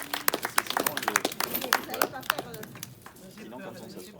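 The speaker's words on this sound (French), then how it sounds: "Janine Nouvier, on applaudit votre courage." An audience at a reunion of former Saint Vincent team members applauds in a brief ragged round of claps under overlapping voices, fading as talk continues.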